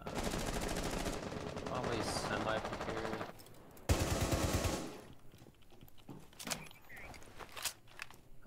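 Gunfire in Rainbow Six Siege, a dense stretch of rapid automatic shots followed by a second burst, then scattered footsteps and softer thuds with some voices underneath.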